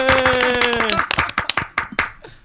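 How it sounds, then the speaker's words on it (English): A small group in a radio studio clapping, a quick flurry of close hand claps that thins into a few scattered claps; a cheering voice rings out over the opening second. "Everybody applaud."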